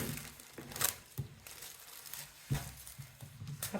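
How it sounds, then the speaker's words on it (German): Scissors cutting a window out of plastic film stretched on a painting canvas, several crisp crinkling snips and rustles spaced a second or so apart, close and fairly quiet. "Ich nehme mir jetzt mal eine Schere dafür"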